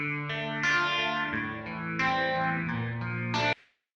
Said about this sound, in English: So it can sound like you're in a small concrete box.